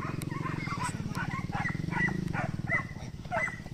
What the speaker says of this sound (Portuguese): tá ouvindo o cachorro